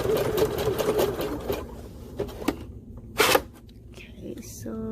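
A sewing machine stitches thick fabric while resizing a small dress, running in a fast close-up burst for about a second and a half, then stopping with short bumps as the cloth is pulled through.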